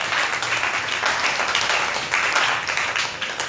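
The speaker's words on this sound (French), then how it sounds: "Acclame très très fort." A church congregation claps loudly and steadily, thick overlapping applause with scattered cheers that stays strong from beginning to end with no speech.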